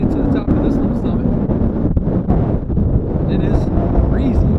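Strong wind buffets the microphone on a mountain summit, a steady roaring rush with gusty swells, as people talk over it.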